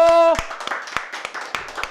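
A small podcast studio audience claps for a departing guest, a few sparse, uneven claps following a brief sustained tone, close and fairly loud but thin rather than a full crowd.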